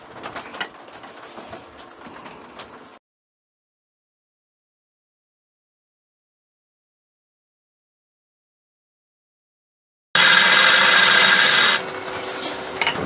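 Scraping and cutting of a wood lathe tool back-hollowing a Japanese Wan Nari style bowl, heard in a short burst at the start, then a long silent gap before a louder, harsher cutting burst resumes near the end.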